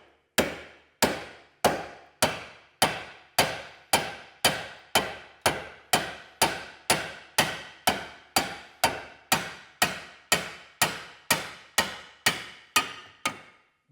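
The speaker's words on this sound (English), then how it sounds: "I'm going to get the old hammer and I'm going to knock that caliper off" About twenty sharp metallic hammer blows knock a seized rear brake caliper off an MG ZS 180, landing at a steady, even pace, each ringing briefly before the next strike.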